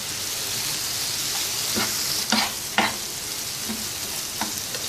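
Chana daal with cumin powder and mixed spices fries on a tawa, giving a steady close sizzle broken by a few sharp scraping stirs of a utensil.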